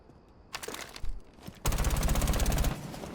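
Callie's SMG fitted with a compensator fires in Rainbow Six Siege: a short burst first, then a longer, loud, rapid automatic stream lasting about a second, up close.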